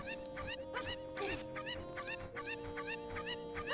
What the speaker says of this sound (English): Gonna throw this chicken up here. Pick it up again. Throw it again.